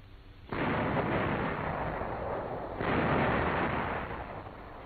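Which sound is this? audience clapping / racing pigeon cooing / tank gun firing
tank gun firing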